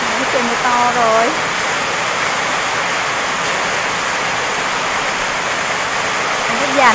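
Heavy rain hisses in a thick, unbroken wash over farmland, with a person talking briefly at the start and a short voice again at the very end.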